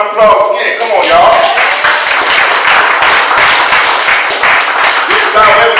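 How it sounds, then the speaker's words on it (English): Loud, sustained audience applause with clapping and cheering fills the room at a live spoken word poetry event, continuing steadily throughout without a break. "Give the females a round of applause again."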